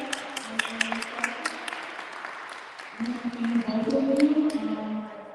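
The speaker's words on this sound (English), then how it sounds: "Can we get a round of applause for the third candidate for this time?" Audience applause at a community forum, a spread of claps over the first seconds, then a fuller, louder burst of clapping that swells and holds toward the end, with some voices mixed in.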